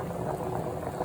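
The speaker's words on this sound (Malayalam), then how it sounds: "അപ്പം നല്ലപോലെ തിളയ്ക്കുന്നുണ്ട്" Cassava in a pot of water boils vigorously, a dense close bubbling and rolling churn that carries on evenly for the whole brief moment.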